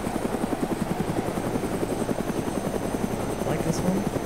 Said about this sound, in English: this is one of the original helicopters from Armor 2, that were in the original DayZ mod